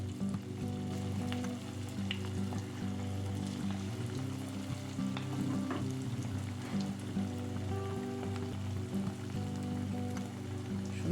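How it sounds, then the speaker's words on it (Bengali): Cabbage pakoras deep-frying in hot oil over medium heat, a steady, dense sizzle with fine crackling and popping, close and continuous with no voices. "গরম তেলে একটা একটা করে পাকোড়া দিয়ে দেব"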